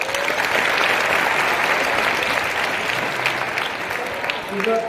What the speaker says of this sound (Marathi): वा, जोरदार टाळ्या होत्या